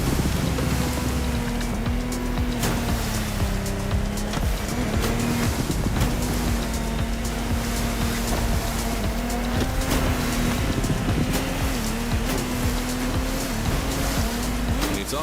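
A speedboat engine in the video game The Crew Motorfest drones steadily with a rising and falling pitch, over constant rushing water and wave noise offshore.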